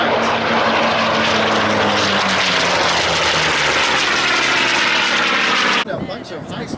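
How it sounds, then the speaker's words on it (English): A Grumman Bearcat vintage propeller fighter roars past in a loud high-speed pass, its piston engine drone swelling then cutting off abruptly near the end. "A bunch of high-speed passes by the Bearcat."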